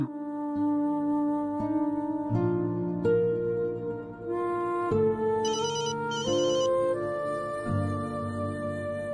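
A phone ringtone plays a repeating melodic electronic tune, loud and continuous with no voices over it.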